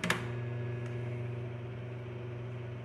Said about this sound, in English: So it's going into the Hello Kitty microwave,